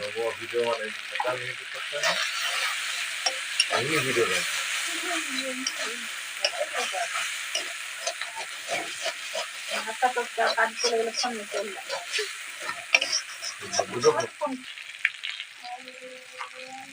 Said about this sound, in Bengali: গাইস সামান্য জল দিয়ে মশলাটাকে আরেকটু কষিয়ে নিয়েছি।